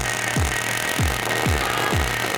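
Wire-feed welding at low wire feed speed in a high school welding demonstration, a steady crackling buzz broken by regular low thumps about every half second as the welder manipulates the bead.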